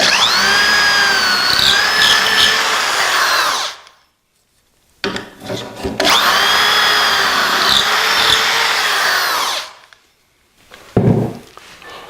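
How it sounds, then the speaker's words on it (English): Power drill boring dowel holes in wood through a Dowelmax jig for a coffee table: two long, loud, steady whining runs with a pitch sag as the bit bites, separated by a pause and clatter, ending with a short burst. "Now we're going to drill in 3 and 4."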